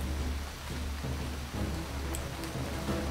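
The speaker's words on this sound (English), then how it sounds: "Is this acid rain?" Steady rain falls in Starbound as an even, hissing wash of drops that runs unbroken and moderately quiet, with a few faint clicks on top.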